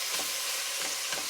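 Ground beef, onions and jalapenos fry for chili in a pan, a dense, steady sizzle with soft stirring pulses, close and continuous, with no voices.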